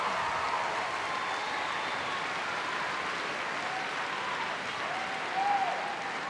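Arena crowd applauding after a judo gold medal win, a steady wash of clapping heard from a distance, even in level throughout, with a short faint whistle or cheer near the end.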